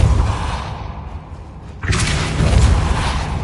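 A Repulsor spell blast in Hogwarts Legacy: a steady rumbling bed, then a sudden loud whooshing slam that opens into a sustained, roaring wash of sound lasting well over a second.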